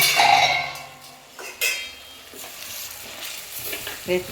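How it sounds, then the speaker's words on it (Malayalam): Pork cooking down in a pan, its liquid nearly boiled off, crackles and sizzles with a close, busy hiss while stirring scrapes through it. There are brief louder pops and a clink near the end, and no voices. "പൊട്ടലും ചീറ്റലും ഒക്കെ കേൾക്കുകയാണ്"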